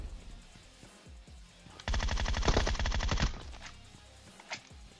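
A Groza rifle in PUBG Mobile fires a fast, loud automatic burst of rapid shots lasting over a second, framed by scattered single distant gunshots before and after.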